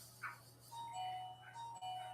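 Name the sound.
bell ringing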